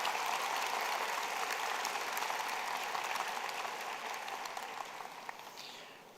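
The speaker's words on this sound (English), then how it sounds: "Let's have a round of applause for the parents who made this" A graduation convocation audience claps for the graduates' parents, a broad, sustained wash of applause that stays fairly even, then gradually thins and fades toward the end.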